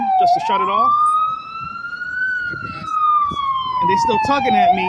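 An ambulance siren passes on a South Bronx street: a loud, continuous wailing tone that rises and falls, with someone talking over it.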